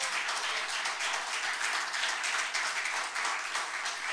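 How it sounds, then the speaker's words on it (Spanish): A church congregation applauds during a Spanish-language sermon on the first resurrection, giving sustained, fairly even clapping at moderate level with no speech on top. "¿Cuántos dan un aplauso al Señor en esta tarde?"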